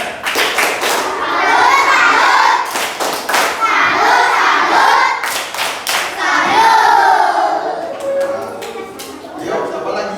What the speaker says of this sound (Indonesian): tepuk salut teman-teman